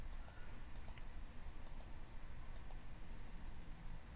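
Computer mouse clicking while selecting guests in seating software, a series of light, quick clicks in small clusters, faint and close over a low background hiss, with no talk.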